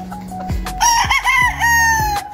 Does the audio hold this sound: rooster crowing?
yes